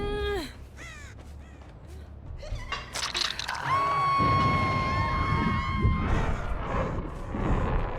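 Crows cawing in the Dead by Daylight game, several harsh calls early on, then a sustained tone and busy game effects with a voice talking underneath.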